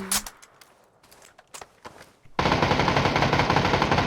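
Gunfire in PUBG: scattered distant clicks and shots and a few footsteps, then a sudden loud, sustained burst of rapid automatic fire close by.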